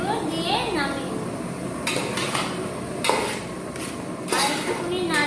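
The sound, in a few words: stirring pumpkin greens curry in a pan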